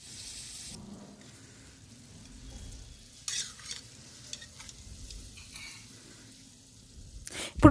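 Slit green chillies fry in oil in a pan for a wet cluster beans curry, giving a low, steady sizzle with some stirring and utensil clatter, and a sharp clank near the end.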